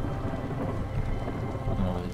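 Storm weather in the video game Against the Storm: a steady, dense wash of heavy rain with low thunder rumbling underneath, continuous and fairly full throughout with no talking.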